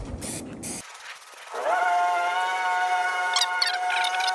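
Super Contact 93 spray adhesive hisses loudly from a nozzle up close, a short broadband burst followed by a steadier spray carrying a thin whistling tone, with no talking.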